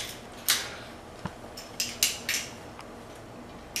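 Sharp metallic clicks and clinks from a handheld garlic press being worked on garlic cloves in a kitchen, a scattered series of bright taps with quiet gaps between them.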